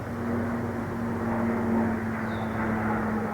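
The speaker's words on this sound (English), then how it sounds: "there's a plane" A fixed-wing airplane drones steadily overhead, a loud continuous engine hum with a low tonal whine that holds level and swells slightly midway, with no talk over it.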